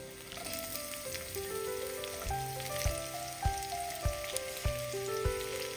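Onions and green chillies fry in spiced oil for a mutton biryani, giving a steady close sizzle with occasional soft stirring knocks, with no voices.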